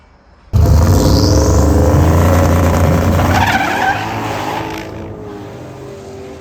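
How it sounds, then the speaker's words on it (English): A race car at a test and tune night spins its tires right off the launch, a loud burst of engine roar and tire squeal that starts abruptly, holds for a few seconds, then fades. "The first pass, it obviously spun right out the gate."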